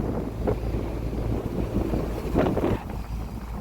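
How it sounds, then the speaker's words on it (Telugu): Strong wind buffets a fishing boat at sea as it moves slowly along its nets. The gusts come as a loud, constant roar and rumble, blowing straight onto the microphone and rising in brief surges, with no voices. "గాలి అయితే మాత్రం విపరీతంగా ఉంది."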